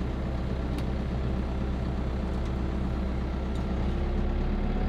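A tractor engine runs steadily at a low, droning rumble while reversing, loud and continuous with a faint higher whine over it and no voices.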